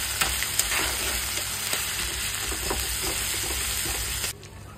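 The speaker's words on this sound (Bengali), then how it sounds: "ভালো করে একটু কষিয়ে নিই।" Cumin and chilli sautéing in hot oil in a pan, a steady close sizzle with light stirring scrapes throughout, cutting off sharply near the end.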